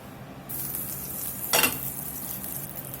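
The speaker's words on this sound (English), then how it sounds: "we're going to get us a little butter in the skillet" Butter sizzling in a skillet, a steady broadband crackle that starts abruptly and holds, with one brief louder burst partway through; no voices.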